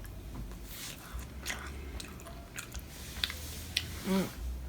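Soft crunchy bites and wet chewing on fried cheese curds, close to the mic, with a few sharper crunches standing out over a low background hum.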